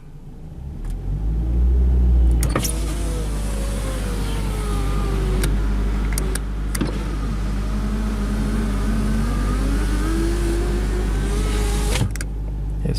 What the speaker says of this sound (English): But if I rev it up,